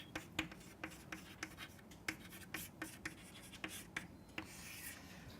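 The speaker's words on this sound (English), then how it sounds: "Let me write it here" Marker or chalk scratches across a lecture-hall board in quick, irregular strokes and taps, close and fairly quiet, with no talking.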